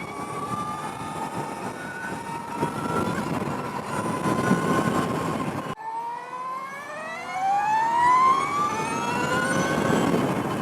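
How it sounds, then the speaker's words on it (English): An Energica EGO+ RS electric superbike being ridden, its motor giving a steady high whine over wind rush, then rising in pitch as it accelerates, loud and close with no speech. "The whining of the electric motor"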